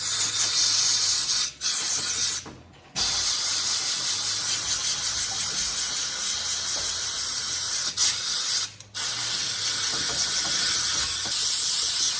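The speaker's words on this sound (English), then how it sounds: "I want to blow off this air filter" Compressed air blasts hiss steadily against the air filter of a Husqvarna 136 chainsaw, loud and close, with a few short pauses between bursts and no talking.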